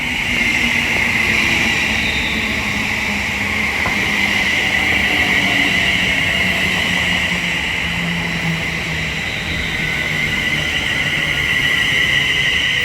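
A British Rail Class 350 electric multiple unit, 350.261, passes along the West Coast Main Line at Leighton Buzzard, giving a steady loud whine and rushing roar that holds throughout with no gap.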